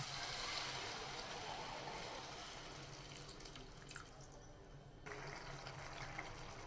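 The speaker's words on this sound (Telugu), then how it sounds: "కొద్దిగా వాటర్ యాడ్ చేద్దాం." Water pours steadily into a pan of egg curry with tomato and salt, a soft continuous splashing stream at low level with no talk.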